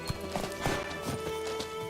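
Roach, Geralt's horse in The Witcher 3, gallops in quick irregular hoofbeats close by, with a faint whinny-like tone mixed into a steady ambient game background.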